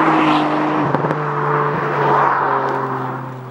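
A 2018 Ford Fiesta ST driven hard through corners on twisty roads, its engine note holding a steady tone that shifts with gear changes, close and loud, with no talking.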